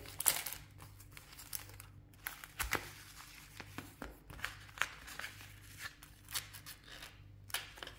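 Thick plastic passport pouches handled up close, giving a run of soft crinkles and sharp crackles in irregular bursts at low volume, with no talking.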